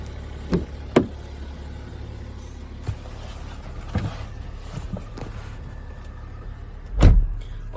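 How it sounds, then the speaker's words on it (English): The electric boot of a 2018 BMW X5 opening, a faint motor whir with a few sharp clicks and knocks and a louder thud near the end, no voices. "As we approach the boot, we can see that it's electric."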